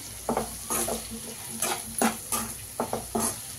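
A spoon stirs spices into capsicum and meal maker frying in a pan, scraping in several short, distinct strokes over a faint steady sizzle, close and clear.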